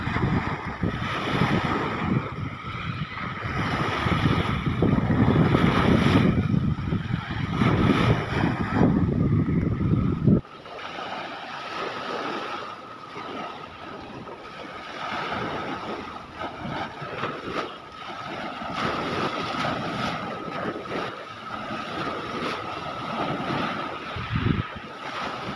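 Waves wash along a seashore while a small fishing boat is pushed out, a loud surging rush of surf and wind for the first ten seconds, then softer lapping water and breeze with a brief splash near the end.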